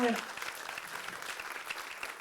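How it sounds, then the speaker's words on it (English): Audience at a supplier diversity hearing gives Mr. Lyons another round of applause: steady, fairly soft, dense clapping throughout, with a faint voice at the very start. "please, let's give Mr. Lyons another round of applause"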